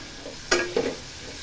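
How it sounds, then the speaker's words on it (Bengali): Onion and tomato frying in a pan for khichuri in Bengali home cooking: two quick bursts of stirring and sizzle about a quarter second apart, close and fairly loud over a quiet background. "এবার পেঁয়াজ আর টমেটোটাকে ভালো করে ভাজা ভাজা করে নেব।"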